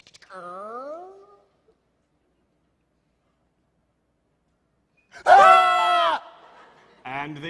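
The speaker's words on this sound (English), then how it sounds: "And they screamed." Performers in a stage duo interpretation of The Metamorphosis scream. A falling wail comes first, then after a long silence a loud, shrill scream, followed by a shorter cry.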